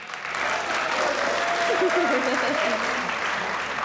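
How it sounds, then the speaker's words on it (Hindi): Dense, sustained clapping from a television comedy show's studio audience fills the stretch while a voice talks over it in the middle, the applause loud and even throughout. "भाई आपको लग रहा है कुबरा ने अच्छा बनाया, तालियां बजाइए।"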